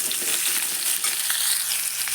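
Cut pumpkin pieces sizzle and fry in hot oil in a pan, with steady crackling and a few scraping stirs, close and continuous throughout.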